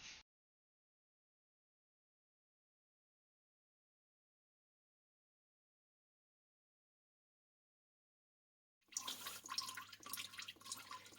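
Transmission oil from the torque converter drain plug of a 2014 Mercedes Sprinter with a 7G-Tronic automatic gearbox trickles and drips into a container, a steady close liquid patter that starts only near the end after long silence.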